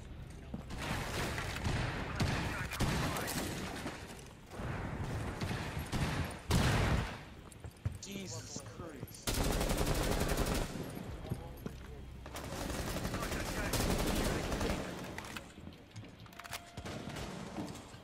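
Gunfire in the video game Rainbow Six Siege, with dense bursts of shots and rapid fire across most of the stretch, pausing briefly a couple of times, with voices talking over the action.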